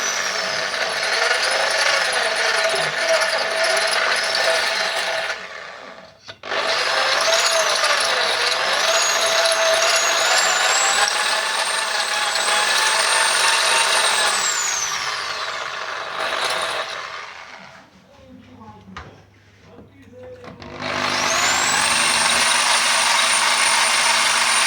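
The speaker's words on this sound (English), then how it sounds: "Just drill against the walls." A power drill widens a hole in ceramic kitchen wall tile. Its loud, sustained whine runs nearly continuously, breaking off briefly around six seconds and again for a longer ragged pause before resuming steadily.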